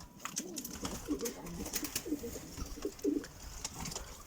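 Adana pigeons coo softly in a loft, several low rolling coos repeating at close to medium distance amid faint background rustle and occasional chirps.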